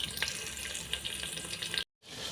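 Vegetables for a radish sambar fry in a pan, a steady close sizzle with spattering crackles that cuts off abruptly near the end before resuming.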